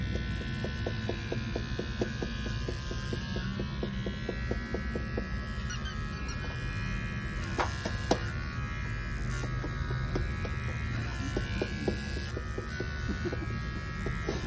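Electric hair clippers cutting a young child's hair, a steady close buzzing hum with repeated rhythmic clicks and occasional squeaks throughout.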